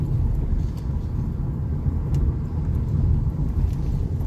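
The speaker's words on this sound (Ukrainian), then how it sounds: "О, дивіться, яка машина виїхала." A Moskvich car drives past on a city street, a steady close rumble of engine and tyres with constant traffic noise around it.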